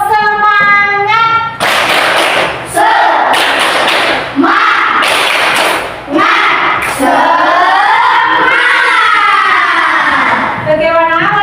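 A group does a rhythmic 'tepuk semangat' cheer clap in a classroom: loud bursts of patterned clapping and thumps alternate with voices chanting and shouting along in unison, close and energetic.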